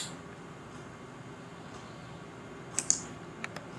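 A few soft computer keyboard key presses during a Rhino 3D modelling session, faint and sparse, with a brief cluster of taps near the end over a low background hiss.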